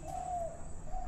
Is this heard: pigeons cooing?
yes